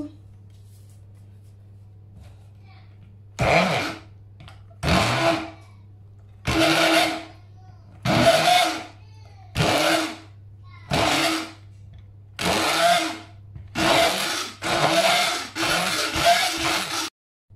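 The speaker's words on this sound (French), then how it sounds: "Donc je vais prendre le mixeur." A hand blender churns a Ferrero Rocher ganache in about ten short, loud, close bursts with brief pauses between them, the later bursts coming faster and closer together.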